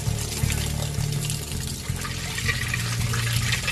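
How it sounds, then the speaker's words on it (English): Water pumped into a captured alligator's gut gushes out with its stomach contents, a steady close-up rush of liquid with low rumbling pump noise throughout. "The contents of the stomach come gushing out."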